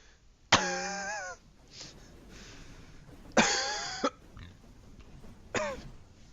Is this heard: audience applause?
no